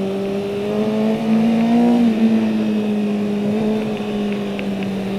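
A Kawasaki Ninja motorcycle pulls through second gear on a racetrack, its engine tone rising then settling into a steady drone, heard loud and continuous with wind noise behind.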